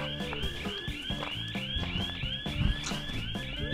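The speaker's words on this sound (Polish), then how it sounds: "Biją na alarm na osiedlu." A car alarm sounds on a Polish housing estate in winter, a loud cycling siren with rapidly repeating rising and warbling tones, steady and continuous, heard outdoors without talk.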